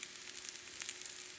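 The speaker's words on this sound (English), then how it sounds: "Here we are frying up the crab cakes." Crab cakes sizzle in a little oil in a frying pan, a steady close hiss and crackle with no voices over it.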